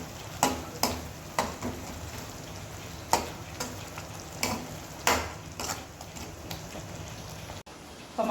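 Mushroom gravy with chilli powder being stirred in a pan, a soft continuous sizzle with repeated scraping strokes of a spoon at a steady rhythm.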